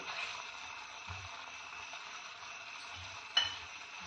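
Cornflour binding stirred into Manchurian gravy in a pan, giving a steady soft sizzle and wet scraping throughout, with a few low bumps and one sharper knock of the spoon near the end.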